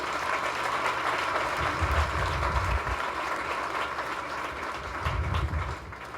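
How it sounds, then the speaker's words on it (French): Sustained applause from the audience at a graduation ceremony, a dense steady wash of clapping with low rumbling swells, moderately loud throughout. "Je vous demande de les applaudir."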